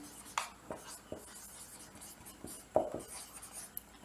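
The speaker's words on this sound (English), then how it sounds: "And we write the nuclear reaction" Chalk or marker scratching across a classroom board in short, spaced strokes while a nuclear reaction is written out, faint and close, with quiet room tone between the taps and scrapes.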